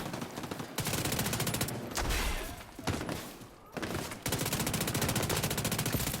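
Rapid gunfire from an SMG in The Division 2, in long, loud, sustained automatic bursts separated by brief pauses.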